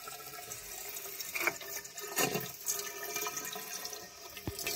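Dirty brown water draining out of an underfloor heating circuit during a flush: a steady, close rush and gurgle of flowing water that keeps going throughout, with a few splashy surges and no talk.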